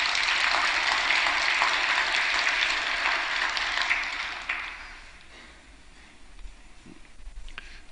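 A church congregation at Seonam Church claps in encouragement for the Gloria choir: dense, steady applause for about four and a half seconds, then it fades quickly to a quiet room.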